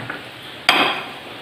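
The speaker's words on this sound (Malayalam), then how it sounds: "ആദ്യം കുറച്ച് ശർക്കര ഇട്ടിട്ടൊന്ന് ഇളക്കി നോക്കാം മധുരമൊക്കെ എങ്ങനെ പാകമാണോ എന്ന്" A utensil scrapes once against a pan while jaggery is stirred into a grated coconut mixture for a snack, giving a single close, short clatter over a low background hiss.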